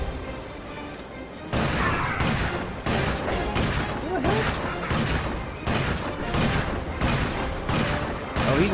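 Repeated heavy blasts and crashes from the Predator Launcher in Ratchet & Clank Future: Tools of Destruction, firing several times in quick succession over continuous loud game noise.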